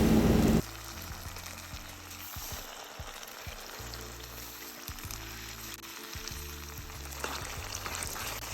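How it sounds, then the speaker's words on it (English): Long grain rice is poured into a hot cooking pot for pigeon peas and rice. A brief rattle is followed by steady, close sizzling and frying that carries on alone. "Now we're going to add the long grain rice, about 2 3/4 cups of long grain rice."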